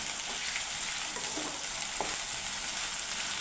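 Ginger garlic paste fries in a pan for chicken curry, giving a steady close hiss with a few soft scrapes of stirring and no voices.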